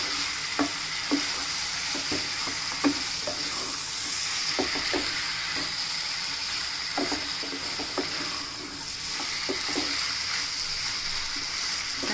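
Chettinad chicken gravy sizzling steadily in a pan after salt is added, a constant frying hiss broken by scattered scraping taps of a spoon stirring the curry, heard alone and close.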